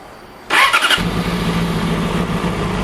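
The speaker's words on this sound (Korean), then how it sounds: "자, 시동을 걸고 할게요" Motorcycle engine starting: a short cranking burst from the starter, then the engine catches and settles into a steady close idle rumble.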